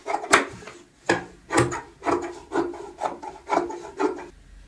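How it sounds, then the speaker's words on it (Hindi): Scissors cut excess cloth off the seam margin of a stitched cushion cover, giving about eight rhythmic, rasping snips close up and at an even pace. "अब हमें यहाँ पे आधा आधा इंच का मार्जिन छोड़ते हुए इस तरीके से एक्स्ट्रा कपड़ा कट कर लेना है।"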